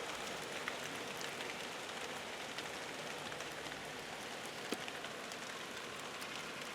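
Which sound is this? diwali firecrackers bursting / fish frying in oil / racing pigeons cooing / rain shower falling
rain shower falling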